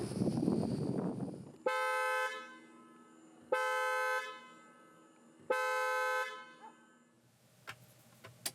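The horn of a 2022 Volkswagen Tiguan facelift gives three separate steady toots of about half a second each, evenly spaced and loud, after a burst of low rumble, with a few faint clicks at the end.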